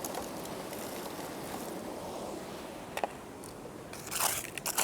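Gravel loaded into a sluice box for gold prospecting, a steady gritty crunching and rattling over running water, with sharper clattering bursts near the end.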